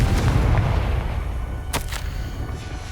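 The Confringo fire spell explodes in Hogwarts Legacy with a loud booming blast and rumble, then a sharp crackling burst and a fading roar.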